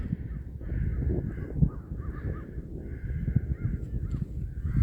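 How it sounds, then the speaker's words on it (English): Several big crows caw repeatedly outdoors at a moderate distance, their harsh calls recurring in a steady series over a constant low rumble of background noise. "Look at these big old crows."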